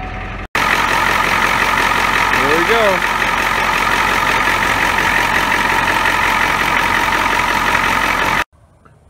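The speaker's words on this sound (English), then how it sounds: "Just started the truck, no battery light." A 1988 Ford F250 pickup's 7.3 IDI diesel engine idles in a steady, loud, unbroken rumble while warming up after a cold start, with a brief spoken remark near the start.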